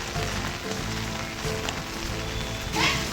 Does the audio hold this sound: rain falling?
yes